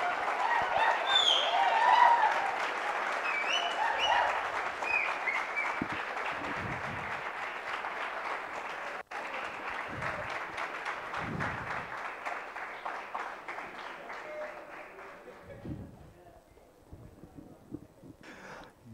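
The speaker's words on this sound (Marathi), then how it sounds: "जोरदार टाळ्या झाल्या पाहिजे सुमितसाठी." An audience applauds a prize winner at a project competition award ceremony, a crowd's sustained clapping that swells early, then gradually thins and fades toward the end.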